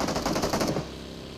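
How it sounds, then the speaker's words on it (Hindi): Rapid automatic enemy gunfire in a mobile battle game, a dense loud burst lasting under a second before cutting off into a quieter lingering tail. "सामने वाली साइड से मेरे को उस कारल का गन साउंड आता है"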